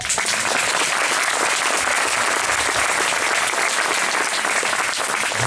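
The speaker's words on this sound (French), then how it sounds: "applaudir Patrick" Applause for Patrick fills the room, a dense and steady crowd clapping that stays loud and even from start to finish.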